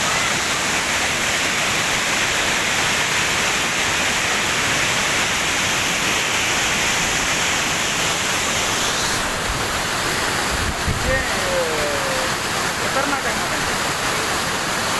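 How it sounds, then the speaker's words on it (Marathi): Roaring high waterfall at Amboli Ghat swollen with monsoon rain, a constant loud wash of falling water heard up close, with a faint voice briefly surfacing near the end beneath the roar. "आम्ही तुम्हाला धबधबा दाखवतोय"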